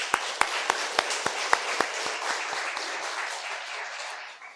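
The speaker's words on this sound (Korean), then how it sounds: "한번 격려의 박수 하겠습니다." A church congregation applauds after a hymn during a Korean Sunday Thanksgiving service, with a few sharp claps up front fading into a softer, scattered patter that thins out toward the end.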